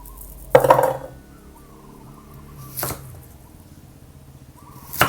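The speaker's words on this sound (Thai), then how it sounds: "ก็หั่นเป็นชิ้น ๆ อย่างนี้เลยค่ะ" Three sharp knife chops on a board while cutting vegetables into pieces, spaced apart, each a crisp close thunk followed by quiet.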